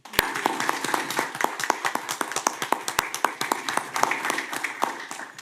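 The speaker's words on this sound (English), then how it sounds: "Let's give them another round of applause." Sparse applause at a city commission meeting in Boynton Beach: a small number of people clapping in scattered, distinct claps, fairly close and moderately loud, with no voices.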